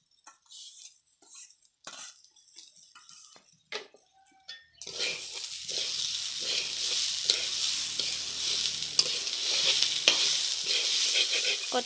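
Khichdi with mixed dal and vegetables is stirred in a pot, starting with scattered quiet scrapes and clinks, then a steady close sizzle under continuous stirring for the rest of the clip, with no talking.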